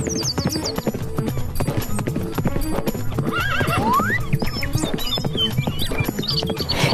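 A mare's hooves clip-clop in a brisk, steady rhythm throughout, close and prominent, with whinnies and neighs rising over the hoofbeats partway through.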